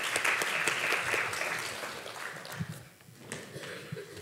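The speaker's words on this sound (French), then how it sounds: "On peut l'applaudir une fois encore" Audience applause at an epidemiology conference session, a fairly faint patter of clapping that is fuller at first, then thins and fades to scattered claps near the end.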